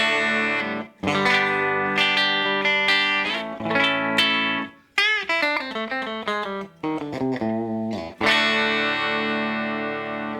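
An Enya Inspire smart electric guitar in parallel pickup setting plays a run of ringing notes and bends with mild overdrive, pausing briefly between phrases.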